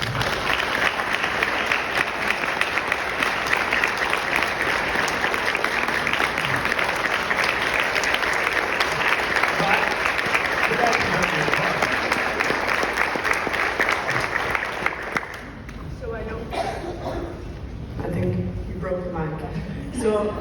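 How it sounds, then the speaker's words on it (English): An audience at a talk about a non-directed organ donor bursts into sustained, loud applause lasting around fifteen seconds, then it fades and a person begins speaking. "Everyone here deserves a round of applause"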